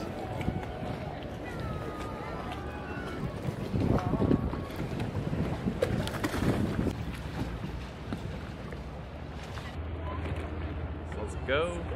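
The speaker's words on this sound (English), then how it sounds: "we're doing a gondola ride" A gondola glides along a Venice canal, with water lapping and steady wind buffeting the microphone. Bumps and knocks from the boat come through, and a louder gust rises midway.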